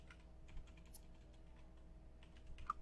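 Quiet, irregular clicks of typing on a computer keyboard, soft and close, with a few louder keystrokes toward the end and no speech.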